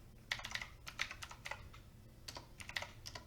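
A file name typed on a computer keyboard, a close, quick run of crisp key clicks in irregular clusters with short pauses, no speech.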